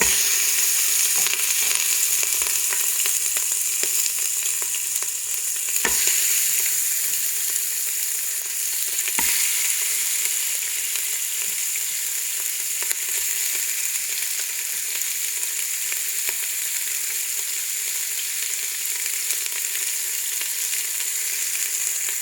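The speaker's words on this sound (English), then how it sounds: "Then I want to saute the meat" Beef with oil and spices sautés in a Ninja multi cooker, giving a continuous bright sizzle up close, broken by a couple of sharp clicks and faint stirring knocks.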